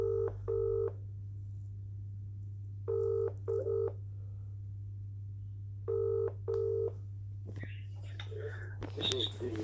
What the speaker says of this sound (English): Ringing up Graeme Kenna now.